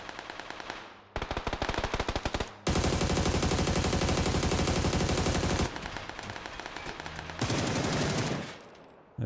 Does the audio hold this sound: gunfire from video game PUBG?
yes